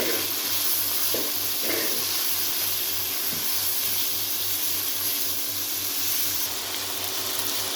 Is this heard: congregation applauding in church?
no